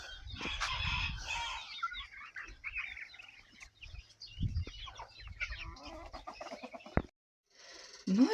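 Hens clucking and squawking close by, busy overlapping calls with bursts of flapping and scratching, a sharp knock near the end.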